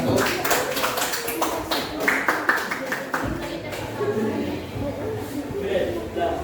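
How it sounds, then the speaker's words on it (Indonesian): A classroom audience claps for a student group after their discussion presentation. The brisk, scattered applause lasts a few seconds and then fades, with a voice speaking over and after it. "Mari semuanya kita kasih aplaus untuk kelompok 1"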